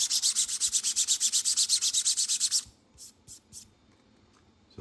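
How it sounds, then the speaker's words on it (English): Sandpaper rubs back and forth over a 3D-printed PLA Conan sword part in steady, rapid strokes that stop midway, followed by a few short scrapes. "So I'm just going to sand all these pieces, both sides, and prime"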